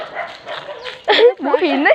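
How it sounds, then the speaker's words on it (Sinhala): Dogs near a river by a paddy field barking and yipping in short bursts, close by, with a voice speaking at the same time. "මේ බල්ලෝ ටික"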